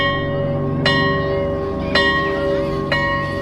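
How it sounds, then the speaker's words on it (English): A school bell rings out three times in steady succession, each clear metallic strike followed by a long, humming ring that lingers and overlaps the next, at moderate distance with no talking. "a few minutes later the bell went off"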